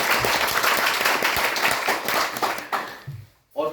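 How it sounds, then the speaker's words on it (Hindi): Enthusiastic audience applause at a business development meeting, loud and dense clapping that thins out and stops after about three seconds, followed by a short pause and a brief voice. "एक बार जबरदस्त ताली।"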